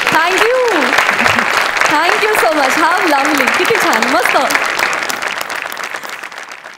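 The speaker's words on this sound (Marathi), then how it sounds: "त्यांना आपण मनापासून धन्यवाद देऊ खूप टाळ्या वाजवून" A studio audience at a Marathi comedy show claps in a sustained round of applause while a few people talk over it, the clapping easing off toward the end.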